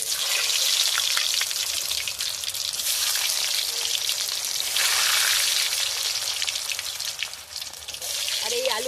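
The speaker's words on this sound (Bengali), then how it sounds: "দেখুন এই যে তেলটা আমার গরম হয়ে গেছে, তো আলুগুলো আমি এর মধ্যে দিয়ে ভেজে নেব" Potatoes for a chicken biryani fry in hot oil with a loud, dense, continuous crackling sizzle that swells and eases slightly, close up, with no talking.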